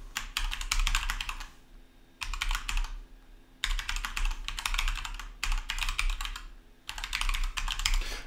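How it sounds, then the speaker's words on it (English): Rapid typing on a computer keyboard comes in several bursts of dense, close key clicks separated by short pauses, with a faint low hum underneath and no talking. "just type it in."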